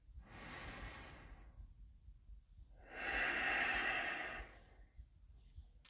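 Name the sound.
deep breathing during yoga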